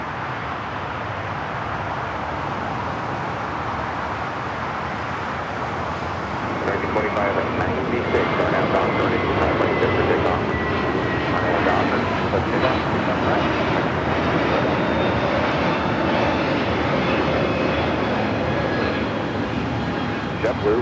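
JetBlue Airbus A321neo taking off at LAX, a loud broad jet roar that swells after a few seconds and holds steady with whining engine tones, with a voice talking over it.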